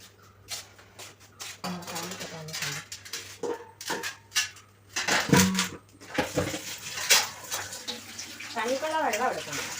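Rice is washed in a home kitchen under running water: splashing and trickling mixed with clattering of dishes and utensils, in irregular bursts that grow busier toward the end, with some vocal sounds nearby.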